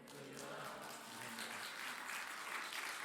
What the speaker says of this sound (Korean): 우리 목사님께 격려의 박수 부탁드리도록